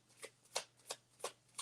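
Tarot cards are riffled in quick, soft bursts, five shuffles in a steady rhythm, close and fairly quiet.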